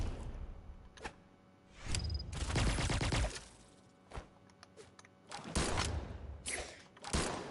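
Pistol shots fired in the Brawlhalla fighting game, several bursts of sharp shots spread through the clip among whooshes and thuds of game action, fairly loud with no talking.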